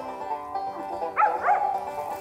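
A hunting dog on a youth squirrel hunt whimpers and gives short yelping barks, close and fairly loud, with rising whiny cries in the middle of the stretch.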